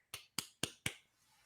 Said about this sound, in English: golf clap. Well done, my friend.